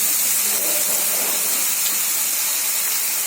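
Cabbage fries over medium heat in a pan while making gobi manchurian, producing an unbroken, loud, close hiss that barely changes, with no voices.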